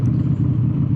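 A Deuce Big Perp motorcycle engine runs at a steady idle, its deep, continuous low rumble loud and close with no talk over it.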